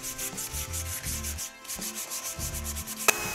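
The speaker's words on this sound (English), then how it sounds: "gave it all a final sanding" Steady back-and-forth scratching of sandpaper rubbed by hand over the wood of a medieval-style folding stool, in rhythmic strokes with a brief pause midway and a small click near the end.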